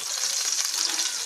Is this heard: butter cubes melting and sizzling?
yes